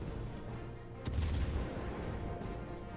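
Heavy naval guns of the cruiser Admiral Graf Spee firing in World of Warships: a loud booming salvo rumbles in around the one-second mark over a steady background roar.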